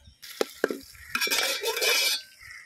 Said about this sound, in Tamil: இது நம்ம நல்லா பொன்னிறமாக கோல்டு கலரில் வர வரைக்கும் நம்ம நல்லா ஃப்ரை பண்ணிடுவோம் வெங்காயத்தை